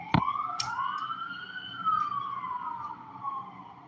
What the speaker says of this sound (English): Did you hear the ambulance that just went by?